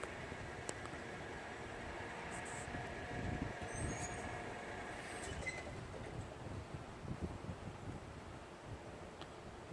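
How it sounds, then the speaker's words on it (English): A freight train creeps slowly along the track, giving a faint, steady low rumble with occasional squeals and clanks, heard from a distance with no talking. "we have our train moving again"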